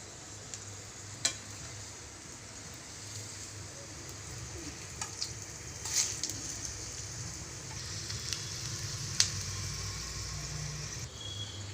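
An evening snack frying in oil after being flipped, a soft continuous bubbling sizzle, fairly quiet and close, broken by a few sharp clicks and taps of a utensil, with no talking.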